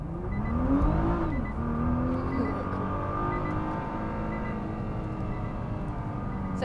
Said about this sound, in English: I'm going to take you for a lap in the Nissan GTR.